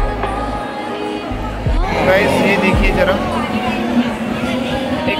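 A dense crowd murmurs and chatters in the courtyard of Prem Mandir temple in Vrindavan, a steady, close hubbub of many voices running throughout while someone talks over it.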